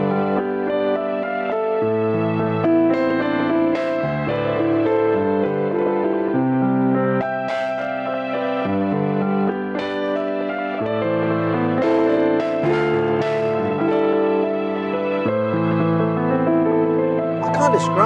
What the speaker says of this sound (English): there's a layered sound called piano and strings